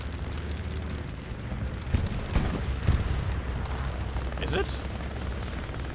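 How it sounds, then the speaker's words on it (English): Distant explosions from an allied bombing run in the WWII shooter Hell Let Loose rumble under a constant battle din, with a few sharper booms clustered near the middle and someone speaking briefly. "Oh, that is an allied bombing run."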